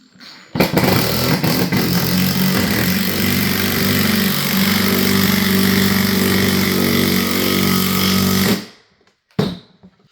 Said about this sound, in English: I was able to send that lag bolt through that 2x4, no problems, and it busted out the bottom there